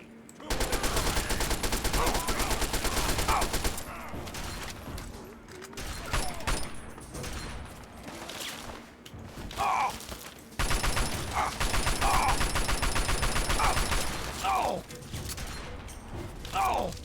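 Rapid bursts of gunfire in a fight against super mutants in Fallout 3, loud sustained volleys broken by short pauses, with thuds and mechanical clatter.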